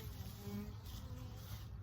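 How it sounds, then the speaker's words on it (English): Honeybees buzzing close by during hive work with a new queen, a faint steady drone with a soft hum that wavers slightly as the insects move near. "Bees on the camera."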